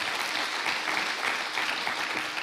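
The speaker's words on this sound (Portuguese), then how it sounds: "Aplauda o Senhor." A church congregation applauding, a dense, even wash of many hands clapping at once, sustained at a moderate level for the whole stretch.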